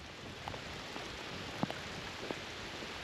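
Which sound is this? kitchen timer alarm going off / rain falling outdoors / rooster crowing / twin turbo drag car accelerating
rain falling outdoors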